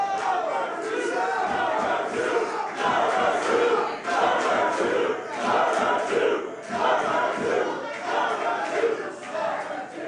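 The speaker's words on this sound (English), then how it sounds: "Crowd letting MJF hear it." A wrestling crowd at a Beyond Wrestling match shouts and jeers loudly at a wrestler, a steady roar of voices with rising surges throughout.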